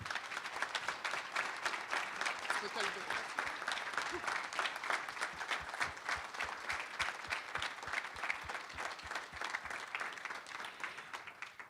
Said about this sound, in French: J'aimerais qu'on donne une bonne main d'applaudissements à ces gens-là